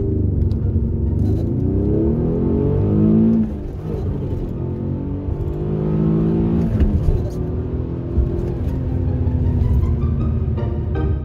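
A 2003 Alfa Romeo 166 3.0 V6 accelerates at full throttle, rising in pitch through repeated gear changes, loud and close, with the engine note dropping and climbing again after each shift.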